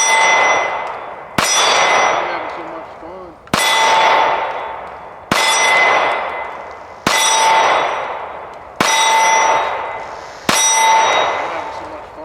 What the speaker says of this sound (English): Shut up and shoot the gun.